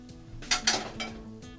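Stir-fried mushrooms with bacon and candied balsamic being plated onto a dish, giving a few close clinks and scrapes of utensil against dish in quick succession, with no talking.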